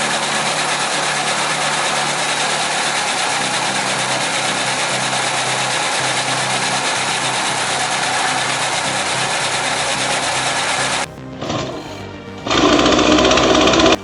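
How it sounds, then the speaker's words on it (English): A vertical hydraulic log splitter works through hardwood logs, a loud, steady engine-like drone running close for about eleven seconds before it briefly drops away and shifts into a different mechanical roar. "This vertical hydraulic log splitter makes even the thickest hardwoods crack like dry twigs."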